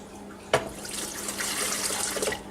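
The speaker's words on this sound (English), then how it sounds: "So then I'm going to add my 4 cups of warm water." Warm tap water running into a container while mixing homemade oatmeal dog shampoo, starting with a sharp splash and then flowing steadily at close range.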